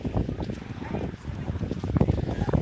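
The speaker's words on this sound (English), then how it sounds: "It's a little windy." Gusty wind buffets an outdoor microphone at an Epcot park rope drop, a steady low rumble with bursts rising and falling throughout, dense and fairly loud.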